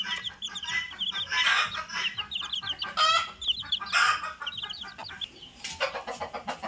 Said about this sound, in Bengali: আমাদের এখানে কিন্তু একটি মুরগি আছে